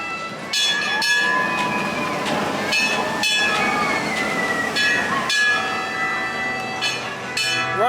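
The Runaway Train, a Mack-built mine-train roller coaster at Alton Towers during its Scarefest Halloween event, clatters and rumbles along its track with metallic squeals and rhythmic knocks, loud and close.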